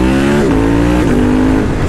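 An 821 Stealth motorcycle with an electronic gearshift holds a loud, steady engine drone near the listener, its pitch stepping down briefly at quick gear changes, with no talking.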